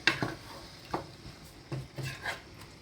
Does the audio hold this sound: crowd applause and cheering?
no